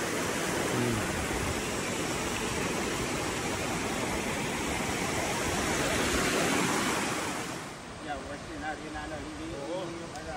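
Steady rushing water like a flowing stream fills the scene at a campsite near Maple Leaf Lake in Algonquin Park's Western Uplands, broadband and constant, easing somewhat near the end as faint voices emerge.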